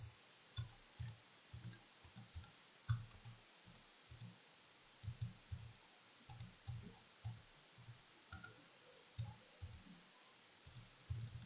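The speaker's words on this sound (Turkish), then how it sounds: "Formuma tıkladım arkadaşlar." Computer mouse clicking during a C# programming lesson, quiet close clicks coming singly and in quick pairs at an irregular pace over a faint background hiss, with no voice.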